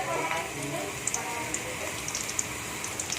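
Onion frying in hot oil in a heated kadai, a soft steady sizzle with faint crackles running close throughout, under a voice talking.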